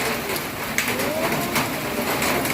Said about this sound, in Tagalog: But it's raining, you see?